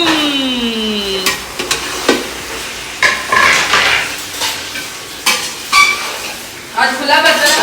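A spoon scrapes and stirs a mixture in an open pot, giving repeated clinks and scraping strokes at close range while someone speaks in between.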